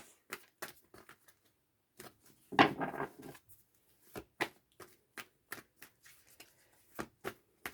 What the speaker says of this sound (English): Sorry, again, it's shuffling for ages.